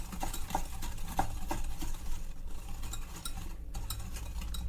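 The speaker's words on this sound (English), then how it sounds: "Add juice of 1 big lemon. Mix it well." Lemon tea cake batter mixed with fresh lemon juice, steady rhythmic stirring with a utensil tapping and scraping against the bowl, close, moderately loud and without speech.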